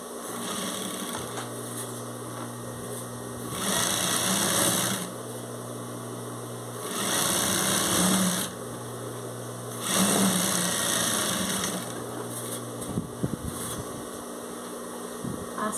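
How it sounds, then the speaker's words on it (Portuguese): A sewing machine stitches a rug made from fabric scraps, running in three or four short bursts of steady whirring over a constant low motor hum, with pauses between runs. "Deixa eu dar uma costurinha aqui para ela ficar melhor assentada."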